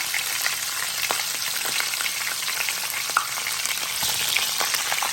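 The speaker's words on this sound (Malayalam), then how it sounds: "3 കളർ പെപ്പേഴ്സ്, ക്യാപ്സിക്കം വട്ടത്തിലരിഞ്ഞത്, അതിനെ ഒന്ന് ഫ്രൈ ചെയ്ത് നമുക്ക് എണ്ണയിൽ മാറ്റാം" Sliced three-colour capsicum frying in hot oil makes a loud, continuous sizzle crackling with small pops and occasional stirring scrapes, with no voices.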